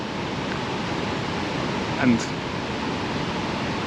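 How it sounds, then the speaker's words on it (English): A waterfall in a waterfall park in the Western Balkans rushes as a steady, broad wash of noise throughout, with a brief word spoken over it. "now I'm in this waterfall park"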